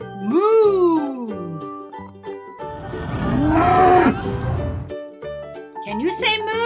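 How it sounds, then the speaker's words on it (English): A cow's long, loud moo in a farm setting, followed by a rougher, drawn-out lowing in the middle and a short bellow at the end, with bright musical tones and jingles between the calls. "do you know what sound a cow makes? Moo."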